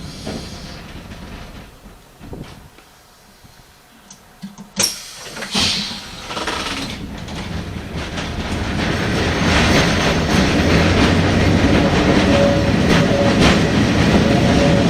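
Wynyard Loop tram running along its rails, starting quiet with a few knocks, then a sharp clunk near five seconds before a steady, loud rolling rumble and rail clatter builds and holds to the end.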